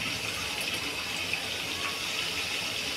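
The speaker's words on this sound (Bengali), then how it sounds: "বাবা কি জোরে জোরে ফুটছে।" Steady, loud bubbling and gushing of a pot boiling hard on the stove while cauliflower curry is being cooked, a continuous watery roar with no pauses.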